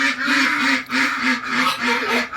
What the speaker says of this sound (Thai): อันนั้นเสียงเป็ดนะไม่เกี่ยว